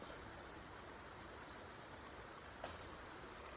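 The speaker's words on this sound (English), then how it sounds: "This babbling brook looks heavenly." A creek at night with water running over rocks, heard as a faint, steady broadband rush with no pauses and one soft splash near the end.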